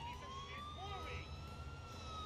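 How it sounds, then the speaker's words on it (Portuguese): Ambulance siren in GTA 4, a faint, far-off wail sweeping slowly up and down over a low street-traffic rumble, with no voices over it. "Vamos seguir a ambulância."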